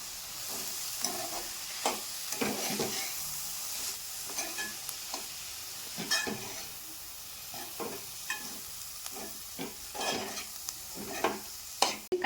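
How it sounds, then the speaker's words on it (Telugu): Spoon stirring wilted ponnaganti leaves, grated carrot and turmeric in a hot pan, with irregular scraping strokes over a soft sizzle, close and steady throughout, no voices. "ఇప్పుడు పసుపు వేసుకుందాం అంతా ఒకసారి కలిపేసుకుందాం"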